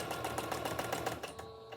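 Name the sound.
sewing machine sewing lace ribbon onto socks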